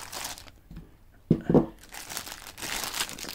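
Plastic cover crinkles as it is pulled from around a wall watch during unboxing, two short, close rustling bursts in the middle between quieter handling noise.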